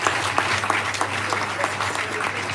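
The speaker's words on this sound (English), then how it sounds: "can I get another applause" Steady applause from an audience at the launch of a University of Lagos television channel, many hands clapping continuously and fairly loud with a few sharper claps standing out.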